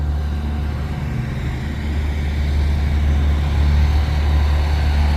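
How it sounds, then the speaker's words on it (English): Trucks idle nearby in a continuous low diesel rumble, loud and steady throughout, with no speech. "It's so noisy over here with those trucks idling"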